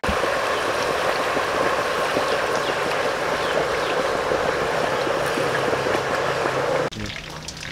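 Pork belly boils hard in oil and water over a raised flame for bagnet, a dense, steady bubbling and sizzling wash close by that drops off sharply near the end.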